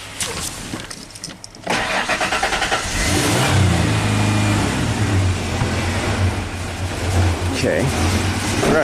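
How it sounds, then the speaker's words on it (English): A Ford Ranger engine that barely runs and seems to be running rich turns over and catches, then settles into a loud, rough idle with a few rising revs, close by and alone. "If we rev it up, seems to be normal."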